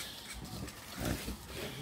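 A native crossbreed pig on a farm in Cagayan gives short grunts and snuffles close by, with a louder grunt midway over steady background noise.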